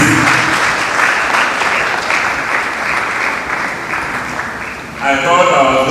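Conference audience applauding, a full, steady wash of many hands clapping for about five seconds, fading slightly before a speaker's voice comes in at the end.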